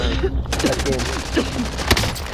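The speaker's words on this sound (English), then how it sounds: "Taking fire over here." Gunfire in Call of Duty: Modern Warfare, rapid repeated shots and booms spread across the moment, loud and close, mixed with players talking over it.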